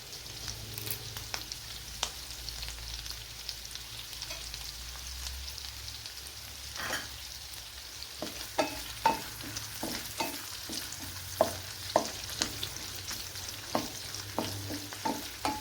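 Curry leaves and green chillies sizzle in hot oil in a pan, a constant crackling hiss broken by sharp, irregular pops and spits that grow more frequent toward the end, with no talking.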